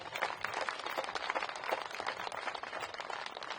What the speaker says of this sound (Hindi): इस शानदार कार्यक्रम के लिए आयोजकों के लिए एक बार जोरदार तालियां बजा दीजिए।